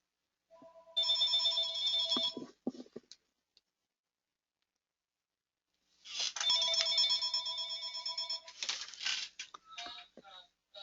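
A mobile phone rings in a classroom: two loud bursts of a bright, multi-tone electronic ringtone, the first about two seconds long, then a pause, then a longer ringing stretch followed by a few scattered clicks.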